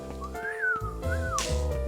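A character in the video game Beacon Pines whistles a short tune of two gliding notes, rising and then falling, over soft steady background music.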